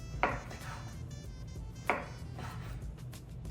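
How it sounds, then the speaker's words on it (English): Knife cutting through French bread, two distinct sharp crunchy cuts about a second and a half apart over a quiet room background. "And then I'm gonna slice all the breads"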